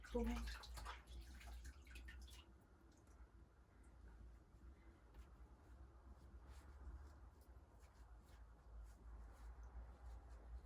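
A pet's paws being washed with water in a bathtub, with soft splashing, dripping and wet squishing at low level, along with faint background noise and a quiet voice.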